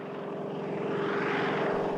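Steady propeller engine drone of a Japanese WWII Army Oscar fighter plane, a continuous loud airplane engine hum that swells slightly louder toward the end, with no voices over it.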